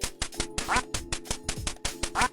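Ducks in the Duck Hunt video game quack in rapid succession, a dense flood of loud, buzzy electronic quacks repeating in a steady rhythm.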